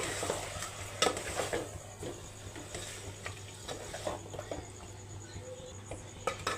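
Spiced chicken curry with chilli powder, turmeric and yogurt is stirred in a pan, with a steady low sizzle and a series of scraping, clinking strokes of the spoon against the metal, close and fairly quiet, with no talk.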